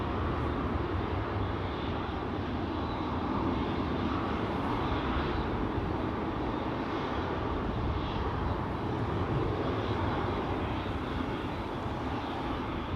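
KLM Boeing 787-9 Dreamliner jet engines at Amsterdam Schiphol Airport: a steady, broad roar heard from a distance outdoors, holding at an even level throughout with no voices.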